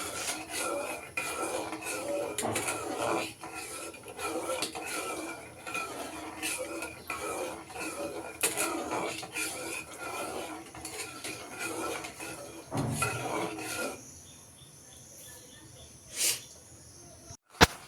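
Milk being stirred in a pot for a village-style chira pitha, with a spoon scraping and clinking against the metal pot in a steady, close rhythm before fading to near quiet with a final tap.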